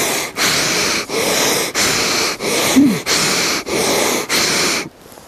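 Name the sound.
long deep breaths in through the nose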